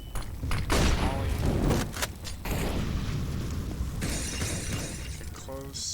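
Molotov cocktail thrown and shattering in Counter-Strike during a competitive Train map round, a loud glassy crash and burst of fire amid other game gunfire and explosions, with a voice talking over it.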